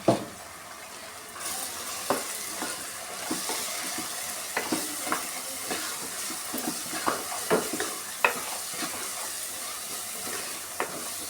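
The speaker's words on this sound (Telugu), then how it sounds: "పచ్చిదానాల పొడి వేగాలి" Spice powder frying in a pan for a chicken fry, a soft continuous sizzle broken by repeated scraping taps of a spoon at irregular intervals, close and quiet with no speech.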